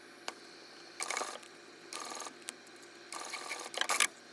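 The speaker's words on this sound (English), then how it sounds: "we're going to stitch along this edge at a 1/4 inch seam allowance" A sewing machine stitches a quarter-inch seam along the edge of a fabric bag in several short bursts of rapid mechanical whirring, close and clear with brief pauses and clicks between runs.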